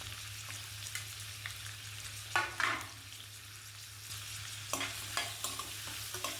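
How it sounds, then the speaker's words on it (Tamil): Onion and garlic fry in hot oil in a kadai, a soft continuous sizzle with a few scraping stirs of a spoon against the pan, close and fairly quiet. "ஆயில் நல்லா ஹீட் ஆனதுக்கப்புறம் ஆனியன் கூடவே பூண்டு சேர்த்து நல்லா வதக்கி விட்டுருங்க."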